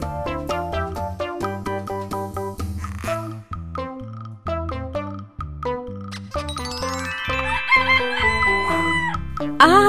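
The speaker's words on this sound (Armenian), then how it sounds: "Ակլոր, իհարկե։" A rooster crows in an animated animal fairy-tale cartoon, woven into bright, stepping melodic music that runs continuously throughout.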